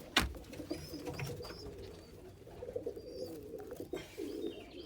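Pigeons in a loft with nesting pairs of crested, roller and saddle homer breeds, giving soft low coos and murmurs, with a few faint chirps and clicks, fairly close, no talking.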